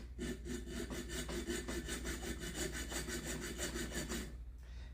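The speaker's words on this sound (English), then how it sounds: "I wanted to do the filing on live stream so people could see that" Hand file rasping along a hatchet blade in steady back-and-forth strokes, close and continuous, with no talking.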